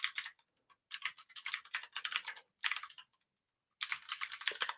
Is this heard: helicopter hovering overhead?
no